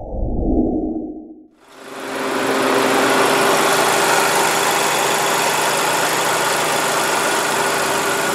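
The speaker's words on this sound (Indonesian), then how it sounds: "di sini kita lihat ruang mesinnya udah terbuka dan suaranya normal" Engine of a 2014 Nissan Serena Highway Star idling with the engine bay open, a steady close hum that sets in after a short low rumble and a brief dip, continuing evenly with no talk.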